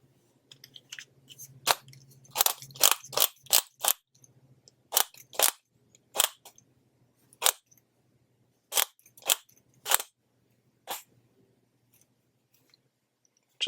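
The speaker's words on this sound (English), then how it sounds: "So our torque wrench, 30 foot-pounds here." A torque wrench tightens a Troy TRX Extreme rail on an S&W M&P10 rifle to 30 foot-pounds, giving a run of sharp, close ratcheting clicks in irregular bursts over a faint steady hum, with no talk.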